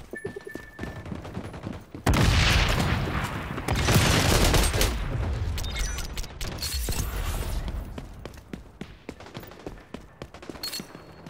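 Frag grenade blast and heavy gunfire in a team shooter video game: sparse shots, then a loud explosion followed by sustained bursts of rapid automatic fire and scattered impacts fading toward the end.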